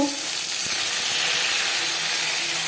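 Whole cumin, bay leaf and dried chili frying in hot oil, a steady close sizzle and hiss running unbroken with faint stirring taps.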